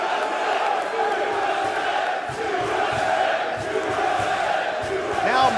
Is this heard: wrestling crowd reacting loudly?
yes